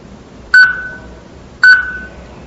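A 360Eye S camera gives two short, clear electronic beeps about a second apart, each ringing briefly before fading, against a quiet background while it waits for a Wi-Fi connection.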